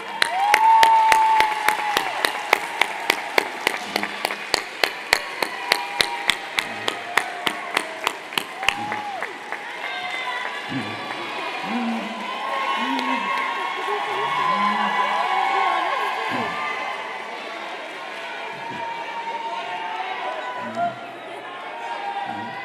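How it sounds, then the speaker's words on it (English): A graduation audience at Baltimore Design School claps in a slow, loud, rhythmic unison beat before it breaks into a broad wash of cheering and scattered applause. "let's give your families a great round of applause"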